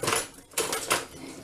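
Almonds are stirred with a spoon through sticky maple syrup and coconut nectar, giving a few short, close scraping and clicking strokes in a quiet kitchen, with no one talking.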